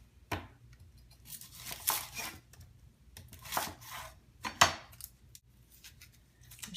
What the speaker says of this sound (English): Next, we are going to chop some of our trusty shallot.